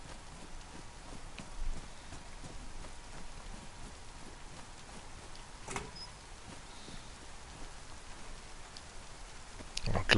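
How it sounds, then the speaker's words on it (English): Steady rain falls in the video game DayZ, a continuous soft hiss with light patter throughout, a few louder bumps from in-game movement. "And the rain comes down."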